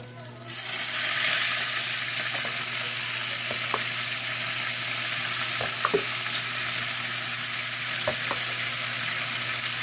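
Tuna flakes frying in a pan give a steady, close sizzle that fills the whole stretch, with a few small pops and scrapes now and then and no talking.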